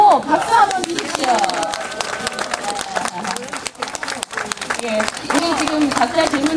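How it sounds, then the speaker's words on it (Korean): Audience applause fills a rink at a junior world championships ice dance medal ceremony, steady dense clapping with crowd chatter and an announcer talking over it throughout. "모두 다 참석하라고 박수 한번 주십시오"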